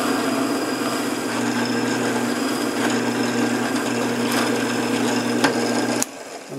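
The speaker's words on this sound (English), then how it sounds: "So we're going to go ahead and drill the first hole." A drill bores a hole in wood while a segment cutting sled is being built for woodturning, giving a loud, steady whining hum for about six seconds before it cuts off.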